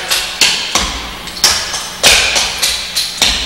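Tap shoes strike a hard floor in quick ball, heel and step triplets, a close, loud run of sharp metallic taps falling in rhythmic clusters with no voices.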